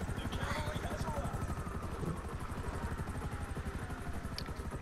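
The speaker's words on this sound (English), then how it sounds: "I've got helicopter support." A police helicopter in Grand Theft Auto V chops steadily with fast, even rotor pulses, loud and near throughout, while voices talk briefly over it.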